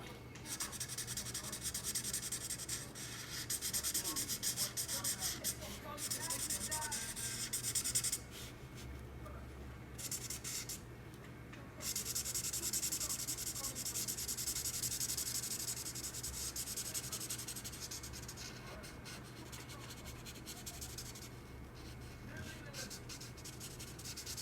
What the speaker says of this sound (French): on utilise la couleur pastel yellow tout autour. Et on peut colorier tout le reste